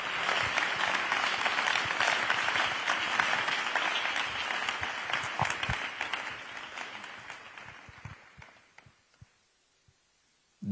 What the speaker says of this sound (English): Si vous voulez, vous pouvez applaudir un peu,